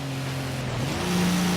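Truck engine in Forza Horizon 3 on a snowy mountain course, a steady low drone with a pitch that dips and then settles, continuous and fairly close with no voices.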